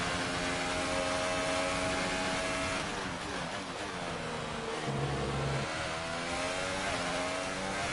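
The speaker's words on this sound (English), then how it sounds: "We're turning up the engine now to standard" A Formula 1 car's engine in the racing game F1 2018 drones steadily and loudly throughout, its pitch sliding down and back up as the car shifts and revs during a race.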